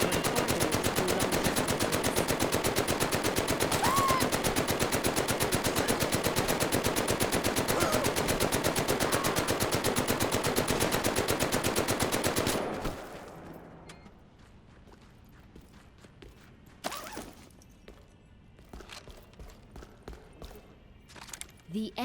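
Sustained rapid automatic fire from an M1919 machine gun in the Medal of Honor: Above and Beyond video game, loud and continuous for about twelve seconds, then stopping abruptly and leaving quieter scattered game noises and a few sharp sounds.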